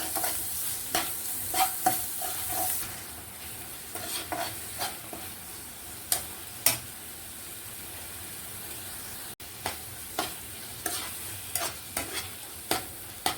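Watermelon rind halwa is stirred in a pan after sugar is added, with a spoon scraping in irregular knocks over a soft continuous sizzle and hiss, close and fairly quiet.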